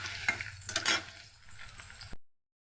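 Onions frying in oil as a spatula presses the layers apart, a close sizzle broken by scraping pushes and small bursts, then a sudden cutoff into silence.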